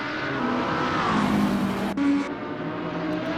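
A Lamborghini GT race car at night qualifying for the GT World Challenge Australia, its engine droning loud and steady at high speed with a brief rise in pitch midway, no talk over it.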